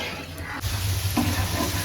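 Dried fish (shutki) frying in a pan, giving a steady close sizzle that swells slightly partway through, with light stirring scrapes and no talk.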